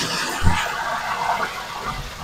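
Water poured from a container into a washing machine tub, a continuous splashing gush with a heavier slosh near the start, heard up close.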